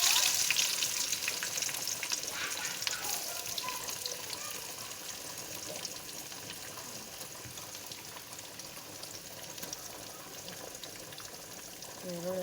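Onions sizzling and frying in hot oil with cumin and mustard seeds and urad dal, a steady crackling hiss for a North Karnataka cucumber palya, with faint stirring and water-like sounds alongside.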